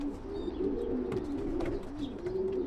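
Pigeons coo steadily inside a pigeon loft, soft, low, rolling calls overlapping one another close by, with a few faint chirps and rustles and no talking.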